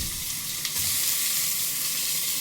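Meat goes into hot rendered fat and fries with a loud, continuous sizzle and crackle. A brief clatter near the start suggests it is dropped into the pan, and no one speaks.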